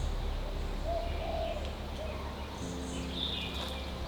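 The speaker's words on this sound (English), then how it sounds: "All around us birds were singing, a wonderful sound we would wake up to each morning." Birds call and coo softly in a resort garden in Mauritius, with brief chirps and dove-like cooing scattered over a steady hushed background, fairly distant and quiet throughout.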